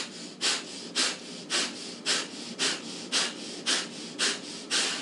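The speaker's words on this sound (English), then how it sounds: "Take an inhale." Breath is drawn through the nose during a morning yoga session in a fast, even rhythm of about ten sharp breaths. Each one is close and clearly audible, with no talking.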